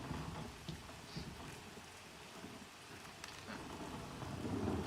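Rain patters steadily on surfaces in the video game Pantheon while a low rumble of thunder rolls underneath, faint and continuous throughout, with no talk.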